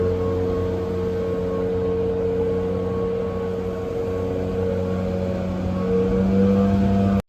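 A turbocharged Ford Crown Victoria engine runs loud and steady up close with a constant droning hum, holding its pitch for several seconds before cutting off abruptly near the end.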